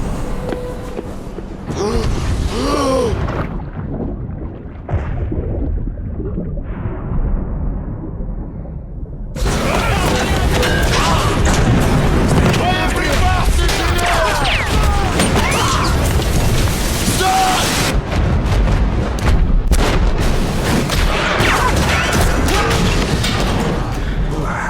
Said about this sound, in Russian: Немецкая батарея открыла по нам огонь.